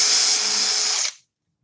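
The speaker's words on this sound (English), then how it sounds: "it's quite important to keep the drill nice and straight" A power drill bores through wood during scroll-saw Christmas decoration work, a loud steady whirring grind that runs for about a second and then cuts off abruptly to silence.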